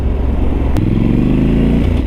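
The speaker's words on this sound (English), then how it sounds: "that exhaust sounds so good when you're off the throttle" A 2019 Triumph 1200 Scrambler, a 1200 cc dual-sport motorcycle, rumbles close by, its exhaust burbling with low popping pulses as the throttle is eased off.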